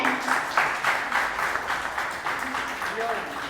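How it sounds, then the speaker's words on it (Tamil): An audience at a Tamil literary gathering claps steadily in a dense, even patter, while a voice keeps talking over the applause. "அவங்களுக்கு ஒரு பெரிய கைத்தட்ட பலமா கொடுங்க"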